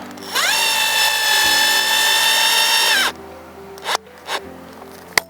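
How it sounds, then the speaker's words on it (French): A power drill fitted with a hook attachment turns wall eye screws into a wall for rose guides, giving a loud steady whine for about three seconds, then winding down to a few short bumps and knocks. "on peut prendre, petite astuce, une perceuse avec un crochet qui va nous permettre de visser sans effort"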